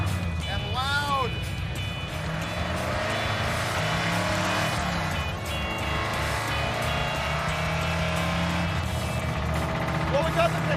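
Dodge Daytona cruising on a road trip toward a storm, its engine a steady loud drone with road and wind rumble throughout, people talking over it inside the car.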